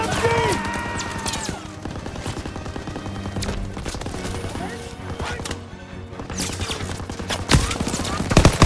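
Dense battlefield gunfire in a WWII video game set on the Normandy beach on D-Day, with machine-gun bursts from a farmhouse hayloft layered over shelling and continuous combat noise, loud throughout with a sharp burst near the end.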